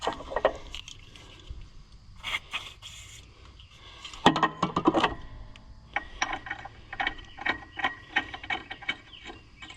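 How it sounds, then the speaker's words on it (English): A ratchet wrench clicks in rapid bursts tightening a bolt while fitting fenders on a John Deere G tractor, mechanical ticking starting and stopping over a low steady hum, with a louder clattering burst partway through. "Turn it in there till it gets tight, and then switch back to the wrench."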